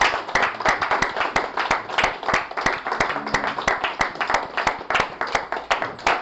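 An audience at an insurance advisors' seminar claps together in quick, dense, loud applause. Sharp overlapping hand strikes keep a steady pulse throughout, with faint voices beneath.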